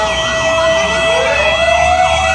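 A fire truck siren wails loud and steady, its pitch sweeping up and down in repeated cycles over street traffic rumble, in a Philippine barangay.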